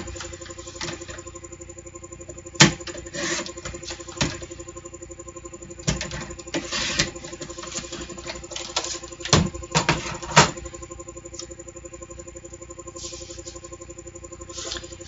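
Patterned paper being cut into 1 inch strips for handmade cards: sparse, dry snips and crisp paper clicks at close range, scattered irregularly over a quiet background with no talking.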